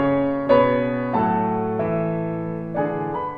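A fugue passage in stretto, with the answer entering over the subject so that the voices overlap; sustained tones with fresh note attacks every half second or so, full and close, with no speech.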